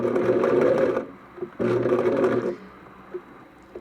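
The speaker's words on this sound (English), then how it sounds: "I'm just going to sew it." Sewing machine running a 1/4 inch seam along the presser foot, two short bursts of fast whirring stitching about a second each, with a pause between and small clicks after.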